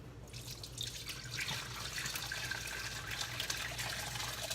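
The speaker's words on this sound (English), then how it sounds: "So we're gonna take this and we're just gonna pour it into here." Homemade beef broth poured through a flour sack cloth, a steady continuous splashing and trickling of liquid, close and fairly loud throughout with no talking.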